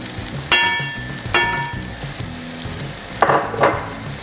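Coriander seeds, cumin and chili powder are stirred into browned beef in a frying pan for a Mexican casserole. A soft, steady sizzle runs throughout, with a few sharp utensil clinks and scrapes against the pan.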